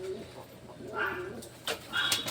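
Pigeons, kept as pet flying birds at a home loft, give a few soft cooing calls amid faint ambient noise, with short brighter calls near the end.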